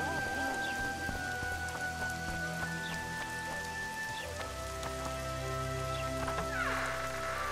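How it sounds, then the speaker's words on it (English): Steady rain falls in Witcher 2: Assassins of Kings, a continuous soft patter of drops on surfaces that runs without a break at a fairly quiet level, with faint scattered game tones over it. "I knew it would rain."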